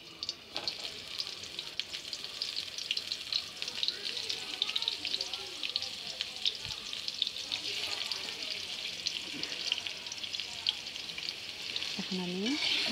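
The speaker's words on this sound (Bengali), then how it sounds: "এখন আমি হালকা আছে পটলগুলোকে সুন্দরভাবে ভেজে নেব।" Pieces of pointed gourd (potol) fry in a little hot oil in a wok over moderate heat, giving a steady close sizzle and crackle with occasional stirring scrapes throughout, faint talk now and then in the background.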